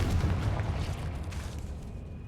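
A deep, rumbling blast from the Confringo spell in the video game Hogwarts Legacy, booming loudly at first and then fading into a low, lingering roar, with no voices.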